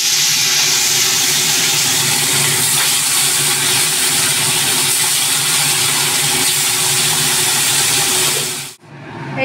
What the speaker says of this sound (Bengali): তো মাছগুলো এক একে ভেজে নেব।